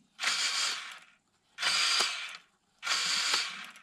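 Steering servo on a budget 1/16 JJRC Q62 RC military truck whirs and clicks in three separate bursts, each close, buzzy and about a second long, with short pauses of silence between them.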